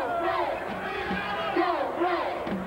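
Basketball arena crowd at an Indiana vs Illinois college game, a loud continuous roar with rising and falling shouts and whoops, heard at a distance.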